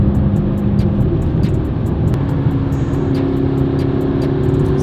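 A McLaren sports car engine droning steadily while driving on a wet freeway in the rain, a continuous loud cabin hum with faint ticking and tyre hiss.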